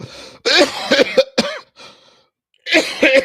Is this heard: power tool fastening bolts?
no